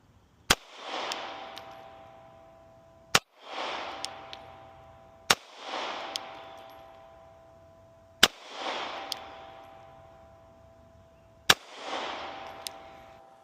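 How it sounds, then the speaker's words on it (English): Five .380 ACP pistol shots fired with Buffalo Bore jacketed hollow-point ammunition, each a sharp crack followed by a ringing outdoor echo and spaced a couple of seconds apart, with no talking. "So we'll shoot the 5 shots now."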